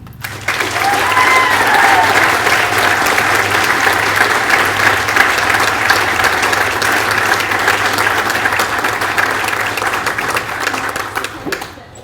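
A high school awards-night audience gives sustained, loud applause for a group of scholarship recipients, filling the hall evenly for about twelve seconds before it tapers off at the end.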